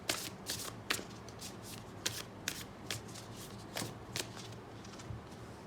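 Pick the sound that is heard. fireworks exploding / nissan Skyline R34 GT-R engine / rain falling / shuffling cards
shuffling cards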